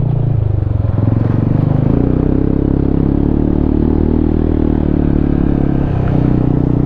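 Motorcycle, with an XMAX300, Sniper150 or ATR150 named, climbing a steep sandy, slippery road. The engine drones loud and close without a break, its pitch shifting under load, with clattering and rattling over the rough surface.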